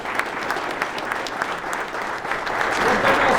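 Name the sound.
team applause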